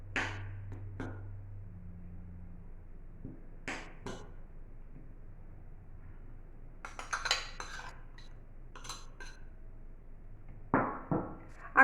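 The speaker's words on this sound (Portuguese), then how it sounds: "Agora misture um pouco com a colher." A spoon works butter into orange cookie dough in a bowl, giving a few sharp clinks and scrapes against the bowl separated by quiet pauses, close and sparse, with a denser burst of scraping midway.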